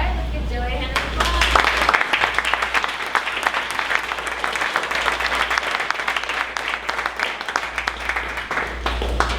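An audience at a 1 Million Cups Dallas startup gathering applauds a presenter with sustained, dense clapping that stays loud and steady, while a voice speaks over it at the start.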